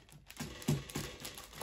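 Soft crinkling of a plastic packet being handled, with a few louder crackles between quieter rustles, close by.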